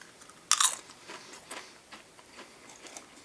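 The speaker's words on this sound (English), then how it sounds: "I guess the chewing could just be ASMR for you or whatever" A loud crisp bite into a Texas BBQ Brisket flavoured Pringles chip, followed by softer close crunching and chewing with small irregular clicks, no speech.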